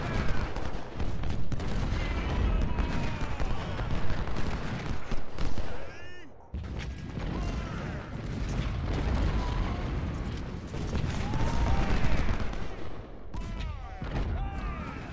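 Dense, continuous musket volleys and booming artillery from the Civil War strategy game Ultimate General at the Battle of Antietam, rolling loudly throughout with a brief dip midway and a faint voice beneath.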